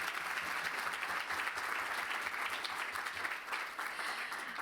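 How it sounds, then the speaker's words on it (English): A conference audience applauds speakers at the UNESCO TVET 2022-2029 strategy launch, steady dense clapping from a large crowd filling the whole stretch at moderate, even loudness. "So I'd like to get a round of applause for all of our speakers for their very reflective answers."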